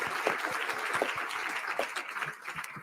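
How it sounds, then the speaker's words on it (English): Applause for new members at an art talk, a steady rain of many hands clapping together at moderate distance, fairly soft and continuous with no voices over it. "Another round of applause for our new CMC members."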